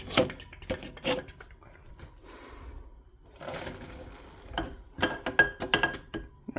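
Metal utensils clink and scrape against a pan of cooked noodles in a home kitchen, with irregular close taps and clatters separated by quieter pauses.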